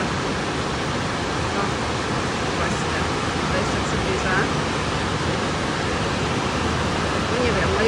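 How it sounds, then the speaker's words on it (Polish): Steady, loud rushing of the Spokane River at a hydroelectric power plant in Washington, a dense continuous roar that fills the whole stretch without pause. "Ta rzeka jest głośna strasznie."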